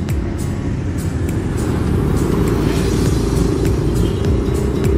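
Yamaha NMAX 2021 scooter riding along a road, a loud steady engine drone with rushing wind and road rumble, continuous and close, with a few faint clicks.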